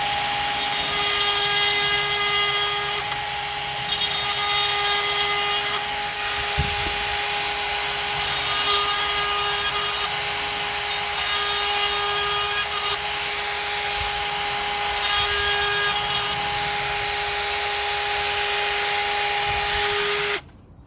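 Dremel chainsaw sharpener grinding chainsaw chain teeth, a loud continuous high-pitched motor whine with repeated brief surges as each tooth is ground in quick light passes, cutting off abruptly at the end.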